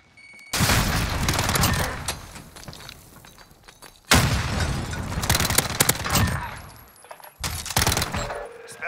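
A Semtex grenade explodes in a Call of Duty search-and-destroy match: loud, close, broadband bursts mixed with sustained automatic gunfire, coming in three separate stretches with quieter gaps between them.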